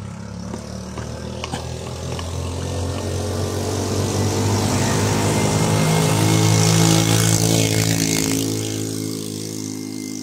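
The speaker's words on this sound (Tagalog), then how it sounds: "So, may mga dumadaan dito ng mga motor mga tol." Motorcycles rumble past on a road, with a loud, steady engine drone swelling as they approach and draw close, then easing off toward the end.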